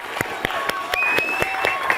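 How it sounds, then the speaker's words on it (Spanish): An audience at a Bible quiz event claps in a short burst of scattered, fairly sparse applause, individual claps distinct and moderately near. "Aplausos, por favor."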